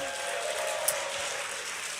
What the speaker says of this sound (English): let's give up a big yell and clap for those that are watching online